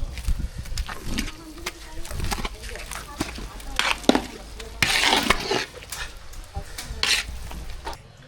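Sambar rice with brinjal, coriander and curry leaves is stirred and mixed in a pot, with soft scraping and intermittent clinks of a spoon against the vessel while a person talks over it.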